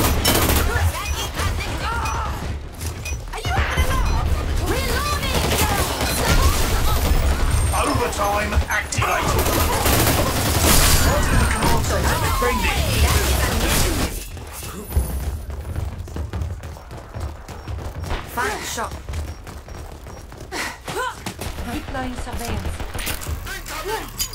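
Rapid bursts of automatic rifle fire and thudding explosions from the online shooter Dirty Bomb, loud and dense through the first half and sparser later, with players talking over the action.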